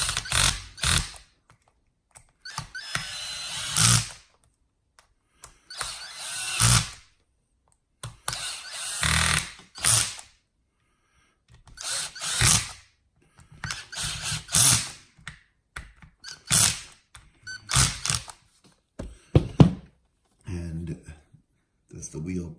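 A power screwdriver set to its lowest torque drives a screw while a TLR starter box wheel is reattached, buzzing and ratcheting in repeated short bursts with gaps between, mixed with talking.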